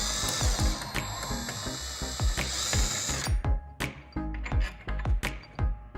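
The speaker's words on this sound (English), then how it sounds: "but we're gonna use a drill for our purposes." A power drill with a ratcheting clatter backs out 10mm bolts from a Jeep JL Wrangler hardtop, sounding in short repeated bursts of whirring and clicking close by, with brief pauses between them.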